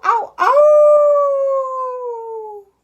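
A human voice imitates a coyote howling at the moon, starting with two short rising yelps and then one long, loud, sustained howl that slowly falls in pitch and fades out, heard alone.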